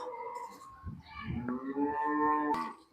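Cows in the sick-cow ward of a large shelter for abandoned cattle in Bhavnagar district let out a few drawn-out moos. The calls are faint and fairly close, with no talking.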